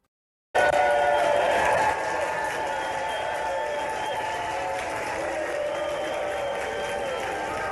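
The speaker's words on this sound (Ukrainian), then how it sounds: "Чуйте овації." Sustained ovation in the US House of Representatives after the Ukraine aid vote, a loud, dense wash of clapping and crowd noise that starts abruptly, peaks briefly, then settles into steady applause for several seconds.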